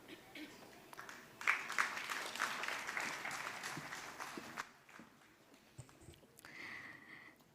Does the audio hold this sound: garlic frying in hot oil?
no